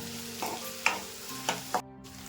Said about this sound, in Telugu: ఇది కొంచెం పచ్చివాసన పోయేంతకు ఫ్రై చేసుకున్నాం